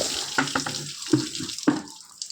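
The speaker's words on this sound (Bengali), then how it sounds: "তো স্নান করতে চলে আসলাম, স্নান করছি।" Water runs and splashes in uneven bursts during bathing, close and fairly soft, with a few louder pours breaking a steady trickle.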